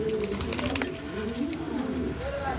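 Budapest (Milliber Budapest) pigeons coo in low, repeated throaty warbles against a steady background hum, close by and moderately loud, with no voices over them.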